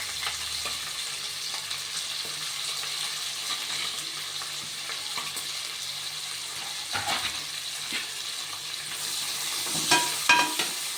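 Thinly sliced onions fry for paneer biryani, giving a steady close sizzle with occasional spoon scrapes and stirring clatter.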